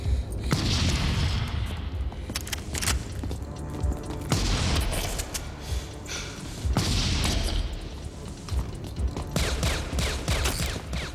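Booming blasts from the Terminator 2 shotgun, layered with deep cannon fire, roll out in three heavy waves of thunderous impact and rumbling decay, loud and close with no talk.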